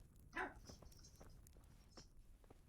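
Dog in the video game Kingdom Come, a single faint short bark followed by quieter soft ambient noise.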